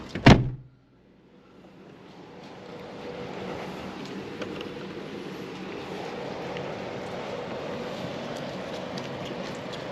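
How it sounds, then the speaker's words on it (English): A VW Golf MK4 with a reverse gear problem gives a sharp clunk at the start, then settles into a steady, moderately loud engine drone as it runs and reverses, with no talk. "So we need to fire the car up and see if it'll actually move under its own power in reverse."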